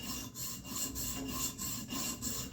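A tanto-style EDC knife blade is drawn firmly across a sharpening stone in steady repeated strokes, a close, rhythmic rasping scrape with brief gaps between passes.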